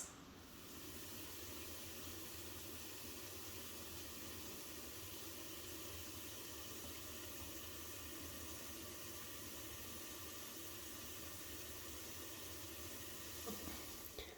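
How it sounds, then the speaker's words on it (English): Water steadily leaking from a kitchen sink drain, a continuous faint hiss and trickle that runs unbroken and alone throughout. "This specific kitchen drain is leaking pretty bad."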